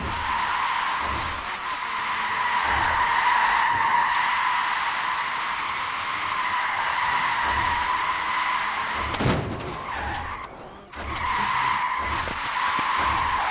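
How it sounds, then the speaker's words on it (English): Tires of a Jaguar I-Pace squeal and skid continuously during a gymkhana run at a rail yard in the racing game Forza Horizon 4, a loud sustained screech with brief breaks and shifts as the car slides. "Let's take this thing for a bit of a gymkhana run and see how it goes."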